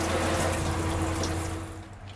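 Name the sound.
water spraying from a new RV shower head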